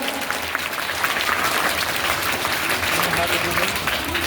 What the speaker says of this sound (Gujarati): એના માટે આપણે એક વાર જોરદાર તાળી પાડીશું